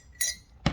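A cup clinks twice while someone takes a drink of chai: a light glassy clink followed by a brief, sharper knock, close and quiet.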